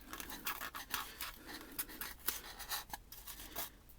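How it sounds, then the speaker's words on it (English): An X-Acto blade scratches and cuts cracks into a diorama brick, making quiet, close, irregular scraping strokes in short bursts with no talking. "just jab your X-Acto blade in there and cut, a circle out and then bevel those edges."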